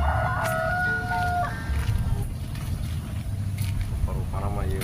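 Chickens cluck and a rooster crows in a rural outdoor setting, with the birds' calls rising over a steady rumbling background. Occasional sharp sounds break through, and the calls return near the end.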